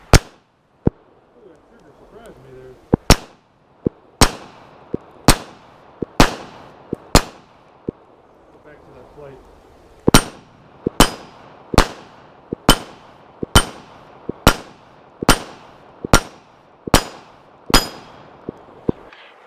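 Kel-Tec PMR-30 .22 Magnum pistol fired rapidly, around twenty sharp, loud, close cracks in a fast string after a few spaced shots, each with a quick ringing decay.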